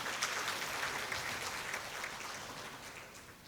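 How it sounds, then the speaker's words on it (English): An audience at a university Research Week keynote gives a round of applause, a soft, steady spread of clapping heard from a distance that tapers gently toward the end. "shall we give another round of applause to our keynote speaker for the day?"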